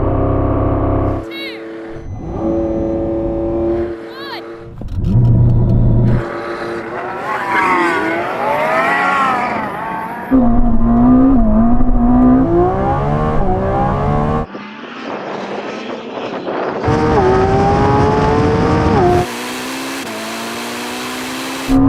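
Lamborghini Revuelto, Ferrari SF90 and Porsche 918 engines roar and rev as they accelerate hard in a drag race, gear changes rising and dropping repeatedly, loud and close over about twenty seconds.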